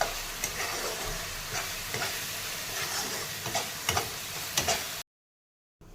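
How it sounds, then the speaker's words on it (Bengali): Spices fry and sizzle in a pan for an egg curry with soybean, with a steady hiss broken by sharp spatula scrapes and taps, loud and close, then cutting to silence near the end. "মশলাটা একদম ভাজা ভাজা হয়ে গেছে দেখা যাচ্ছে"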